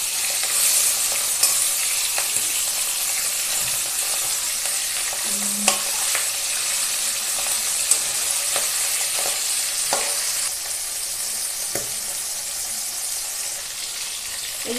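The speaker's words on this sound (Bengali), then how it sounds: "মাছগুলো অল্প ভাজা হয়ে গেছে, উল্টে দেবো।" Rohu fish pieces frying in oil in a pan with a steady close sizzle, broken by scattered clinks and scrapes of a spatula as the pieces are turned, with no talking.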